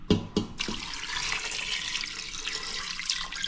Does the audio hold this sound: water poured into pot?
yes